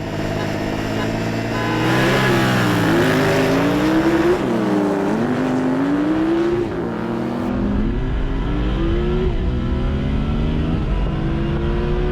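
A Suzuki SV650 motorcycle and a car accelerate hard down a quarter-mile drag strip, engine pitch climbing through several gear changes as a loud sustained roar, with brief talking.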